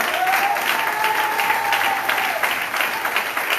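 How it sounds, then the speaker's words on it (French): A church congregation at a French-language praise and worship service breaks into steady, loud applause acclaiming Jesus, dense clapping sustained throughout with a faint sung or held tone underneath. "Est-ce que quelqu'un va acclamer Jésus?"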